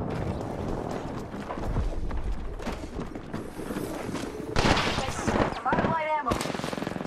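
Gunfire from the battle royale game Apex Legends rattles in repeated bursts, with dense shots running throughout and louder, sharper volleys near the end; game voice lines and radio chatter sound underneath.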